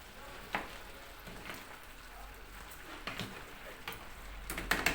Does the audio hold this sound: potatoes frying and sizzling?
yes